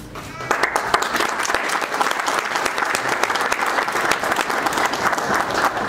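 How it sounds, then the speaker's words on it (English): Audience applause at an app launch event, a dense, steady round of clapping from a sizable crowd that swells in the first half-second and holds loud and continuous throughout. "A huge round of applause, ladies and gentlemen."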